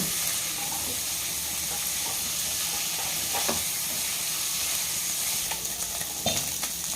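Chicken pieces frying in a pan for white sauce pasta, a steady broadband sizzle that holds throughout at close range, with a few brief clinks of stirring near the end.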